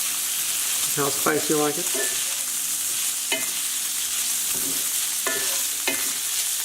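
Chili powder is stirred into ground beef frying in a pan for lettuce wraps: steady sizzling runs underneath while a spoon scrapes and knocks against the pan in several quick strokes, with a voice talking briefly over the cooking.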